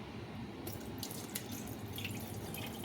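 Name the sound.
water poured out after washing greens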